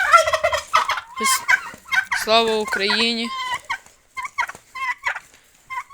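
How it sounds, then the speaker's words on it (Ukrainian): Turkeys gobble loudly and repeatedly while chickens cluck nearby. A voice is briefly heard at the start. "Вирішив мені познімати наші індики, кури, провідати наших індичок"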